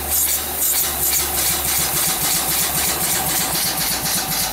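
Model steam engine with forward and reverse running on steam from a boiler, a loud, close, rapid even chuffing beat that holds steady throughout.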